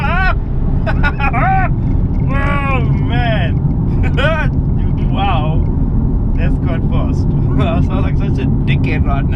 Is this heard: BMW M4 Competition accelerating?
yes